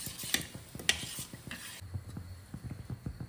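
A spoon stirs drumstick leaf soup in a pot with soft scraping and irregular clinks against the metal, over a low simmering sizzle.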